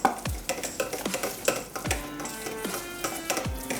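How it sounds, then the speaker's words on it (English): A cocoa powder mixture for a chocolate drip stirred in a bowl, with close spoon scrapes and clinks landing in a steady rhythm, each stroke ending in a soft thud, and no talk. "So we just stir."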